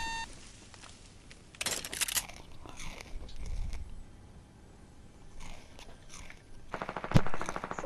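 Fortnite assault rifle fire arrives in two sharp automatic bursts, one early and a louder one near the end, separated by quieter game ambience.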